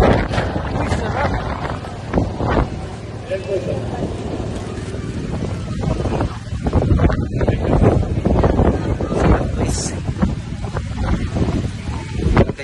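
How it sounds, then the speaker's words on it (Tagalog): Strong wind buffets the microphone throughout a bike ride on an uphill road, a loud, continuous low roar with gusty surges, while voices talk over it now and then. "Sobrang hangin."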